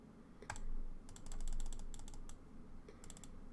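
Quiet, crisp clicks come in short bursts, like rapid computer mouse or keyboard presses during a fast-paced browser game run, close and isolated with soft room hiss between them.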